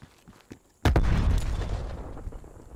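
A frag grenade detonates in Call of Duty Black Ops Cold War after a few faint clicks, one sudden loud boom followed by a rumbling, slowly fading tail.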